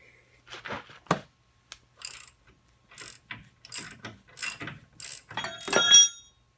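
A ratchet removing the top bolts of an A-arm on an S10 truck clicks in short bursts of quick metallic ratcheting, separated by pauses and growing louder toward the end.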